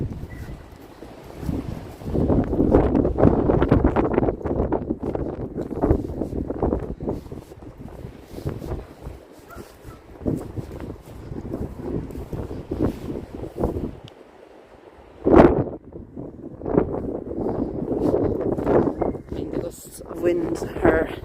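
Strong wind buffets a handheld camera gimbal in an outdoor cemetery, gusty rumbling noise that rises and falls throughout while someone talks over it.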